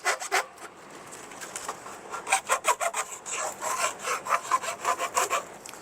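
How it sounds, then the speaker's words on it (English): Deburring tool scraping burrs off the edges of a NACA duct on a Toyota Supra track car, a series of short close rasping strokes in uneven bursts. "Clean up some of these burrs."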